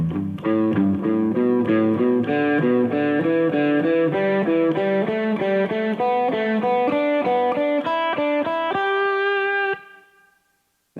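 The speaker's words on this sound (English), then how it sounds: "If you play that across the whole scale ascending, it would sound like this." Electric guitar picks a steady three-note pattern climbing through a whole scale, even rhythmic notes played alone, clear and close, ending on a sustained top note.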